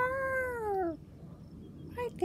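A cat gives one drawn-out, falling meow up close, followed by a quiet pause and then a short second meow with a brief voice near the end.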